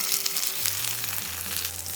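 A steak sears in hot oil in a pan, a loud, close, continuous crackling sizzle with bursts of spitting and no voices.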